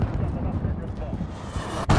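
A cruise missile blast in the Call of Duty Modern Warfare beta multiplayer, a loud, dense rumble of explosive booms that ends in a sharp, heavy hit, with a voice talking over it.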